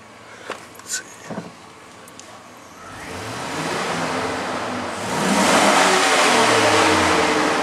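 A GMC Sierra 4.8 LS engine with 131,753 miles runs fully warmed up, starting with a few clicks and light idle before being revved twice, each rise louder and sustained, close by and with no talk.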